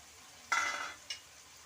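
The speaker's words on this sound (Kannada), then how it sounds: "ಈಗ ಬೇಯಿಸಿರುವಂಥ ಅವರೆಕಾಳನ್ನು ಹಾಕ್ಕೊಳ್ತಾ ಇದ್ದೀನಿ" Boiled field beans (avarekalu) tipped into a hot pan let out a sudden burst of sizzle that fades, then a second brief sizzle, with no talking.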